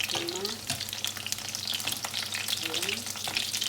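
A steady, close sizzle comes from catfish browning in a pan for adobo, with dense crackling and faint occasional stirring.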